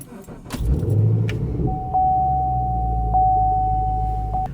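A Chevrolet Camaro SS runs with a steady, loud low engine rumble after an early burst of mechanical noise, with a sustained tone and a few faint clicks across it.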